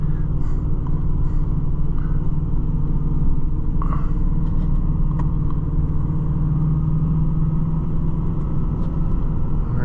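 A Ford Super Duty truck climbing a steep hill in low gear, its engine a constant loud, close rumble with slight variation and a few faint clicks throughout, no talk.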